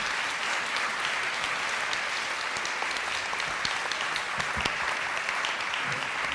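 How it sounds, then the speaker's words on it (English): A crowd at a keynote talk claps continuously and loudly, a dense, even wash of applause throughout. "Let's give them a really big round of applause."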